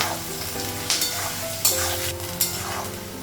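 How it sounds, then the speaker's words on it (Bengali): Potatoes and onions sizzle loudly in a pan, with a few sharp stirring scrapes punctuating the continuous close frying. "পেঁয়াজটা আলু ভাজা হয়ে গেছে, মশলাগুলো লাগাবো।"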